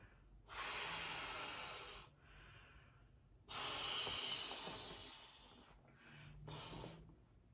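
Three long, forceful breaths blown into a camping pillow on the Appalachian Trail, close and hissing, with short quiet gaps between them.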